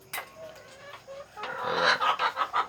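Hens and roosters of many colors are kept in a small backyard pen and cluck nearby, with scattered calls at first, then a busier burst of overlapping, rhythmic clucking.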